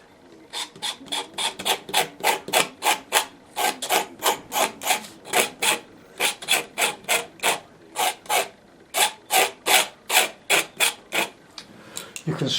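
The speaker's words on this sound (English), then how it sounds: "you can scrape out if you've overpainted it a bit too much" A blade scrapes overpainted watercolour paint off the paper of a painting: steady, rhythmic rasping strokes, about three per second, close and fairly loud, with no talk.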